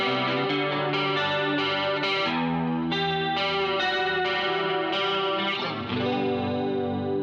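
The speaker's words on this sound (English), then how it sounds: "you can get some pretty killer classic analog chorus sounds like." Electric guitar played through a $20 budget analog chorus pedal rings out in shimmering, warbling chords that change every second or so, steady and up front with no talking.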